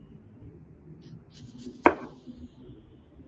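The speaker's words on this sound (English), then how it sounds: "If you don't go all the way down, you're not gonna chop up the whole onion." A knife chops through an onion on a cutting board with a single sharp, close knock, surrounded by soft low background noise.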